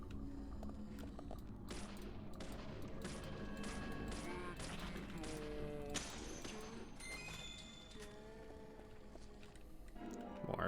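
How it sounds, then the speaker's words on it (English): A 12-gauge shotgun fires repeatedly in the horror game Deadly Premonition, its blasts landing as sharp, fairly quiet bursts amid game sounds and voices. "12-gauge shotgun."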